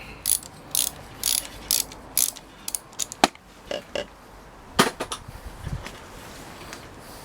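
A ratchet backs out long bolts holding a fairing bracket on a Yamaha XJ400Z motorcycle, giving close, quick bursts of clicking pawl strokes in uneven groups with short pauses and no talk.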